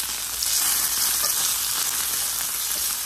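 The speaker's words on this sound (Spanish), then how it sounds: "aquí mismo se van calentando nuestras tortillitas y van agarrando ese rico colorcito de los taquitos" Corn tortillas for soy al pastor tacos heat in a hot pan, giving a steady, close, continuous sizzle and crackle with no talking.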